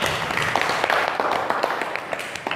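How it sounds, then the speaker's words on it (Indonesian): Scattered applause for a presenter in a classroom or group session, individual claps audible as a loose, uneven patter at moderate volume, with no one speaking. "beri tepuk tangan untuk Mbak Irma"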